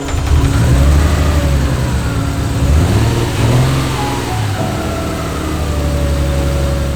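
A Nissan R32 Skyline engine with a misfire runs loud and close. Its revs rise and fall unevenly, with a rough, wavering drone over a low rumble.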